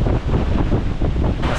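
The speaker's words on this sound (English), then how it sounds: "this wind has blown all the heat away" Strong wind buffets the microphone on a boat in the Bahamas, a loud, continuous roar with gusty surges and possible wave wash underneath.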